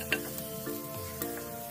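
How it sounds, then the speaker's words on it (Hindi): Garlic and ginger fry in hot oil in a pan, giving a steady close sizzle that runs the whole way, with a few soft spatula scrapes on top and no voices. "अब इसमें गार्लिक डालेंगे, जिंजर डालेंगे और इन सभी को 10 सेकेंड तक तेल में भून लेंगे।"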